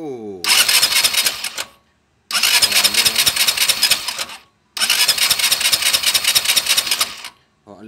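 An Easyride 150 motorcycle engine with a modified ignition coil cranks and fires in three loud, sustained starting bursts separated by short silent gaps, with a rapid rattling pulse throughout.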